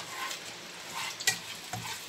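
Onions frying in a frying pan give a steady, close sizzle with a few soft stirring knocks and scrapes, heard alone with no talking.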